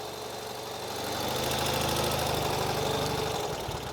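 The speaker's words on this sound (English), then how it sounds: "when I give it a little throttle, you can see the whole bike wants to twist" A Ural Gear Up motorcycle engine with its sidecar removed idles with a steady low throb, then the throttle is opened slightly and the note swells and stays raised, close and with no talk.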